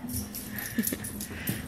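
A dog lets out soft, close whimpers and small whines in short bursts over a quiet indoor background with a faint hum. No one speaks.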